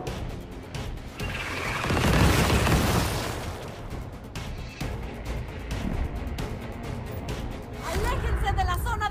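A loud rumbling explosion in the tactical video game Gears Tactics, swelling early and fading into gunfire and game effects while a player keeps talking over it.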